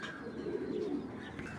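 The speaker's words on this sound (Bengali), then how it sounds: "এই যে 21-এর কবুতর।" Racing pigeon with a club ring, its chest silver, cooing in a low, continuous burbling murmur close by, steady through the short moment with no other voices.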